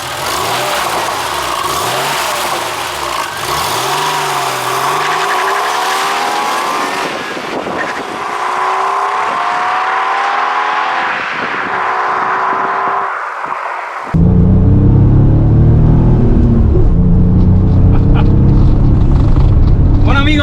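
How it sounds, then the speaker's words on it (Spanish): A Porsche 911 Carrera Cabriolet of the 993 generation drives along, its engine droning and rising in pitch through the gears, then turning suddenly louder and rougher near the end. "Ya estamos al volante, ya estamos disfrutando de este 911."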